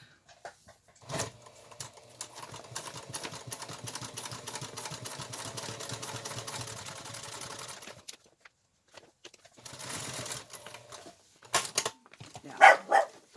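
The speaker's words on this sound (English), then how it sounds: "And I'm going to sew 2 lines, 2 across." A sewing machine stitches seams across a woven bulk rice bag being made into a market bag, running in a steady buzzing stretch, then a shorter second run after a pause, with a few faint clicks at the end.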